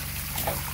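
Irrigation water flowing down from a pipe for flood watering, a steady low trickle and gurgle, close and continuous with no talk.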